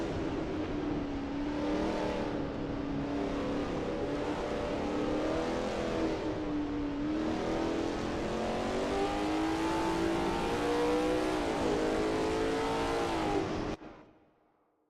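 A Lola T70 MkII Spyder race car in a racing game at Spa, its engine droning loud and steady with shifting revs through corners for most of the stretch before cutting off abruptly.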